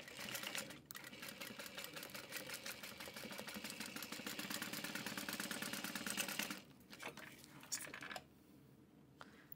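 A sewing machine stitches a 3/8 inch seam along the lining of a clear Teresita train case, running in a steady, fast, continuous patter for several seconds before stopping, then giving a couple of short bursts.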